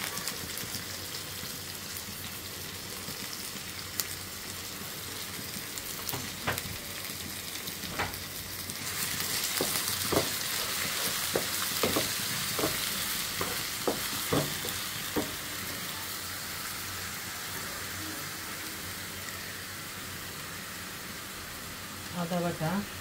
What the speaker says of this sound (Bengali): পেঁয়াজটা আমি লাল লাল করে ভেজে নিব। দিয়ে দিলাম পেঁয়াজ বাটা